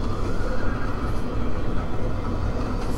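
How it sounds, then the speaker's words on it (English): A horse whinnies loudly amid dense, continuous commotion while hauling a stagecoach in Red Dead Redemption, the neigh blending into steady close-up hoof and wagon noise throughout. "The horse got out of control."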